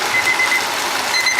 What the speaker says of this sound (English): 2 minutes is up, and I've got my timer set, so now it's went off